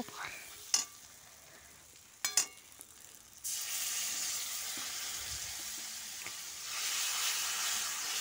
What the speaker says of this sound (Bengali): এবার একটু জল দিয়ে আর খানিক কষে নেব